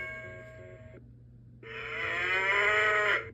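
An electronic memory game toy plays a synthetic cow moo, a brief electronic tone followed by a loud, buzzy, tinny moo lasting about a second and a half, close up with no talk.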